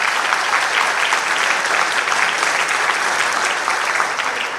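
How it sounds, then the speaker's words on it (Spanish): An audience at a seismic-risk forum applauds its panelists, steady sustained clapping from many hands filling the room throughout. "les pido que demos un fuerte aplauso a nuestros panelistas por su presentación"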